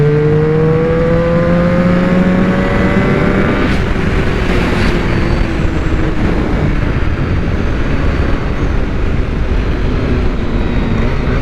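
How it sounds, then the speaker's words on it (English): A Honda NR750 motorcycle engine runs with its fuel-injected intake drawing air, heard close as a loud droning hum with rising tones that drop off partway through into a rougher, steady rumble. "That's the intake sound,"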